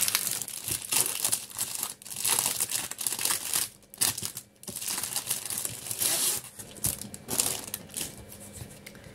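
Plastic bag packaging being worked open by hand, a dense run of crinkling and tearing rustles close up with brief pauses, no talking.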